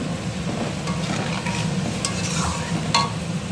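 Mustard fish curry bubbling and sizzling in a pan, a steady close frying hiss with occasional stirring scrapes.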